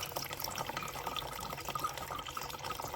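Water runs from a heating radiator in a steady, noisy trickle that fills the short stretch at close range and moderate level, with no voices over it.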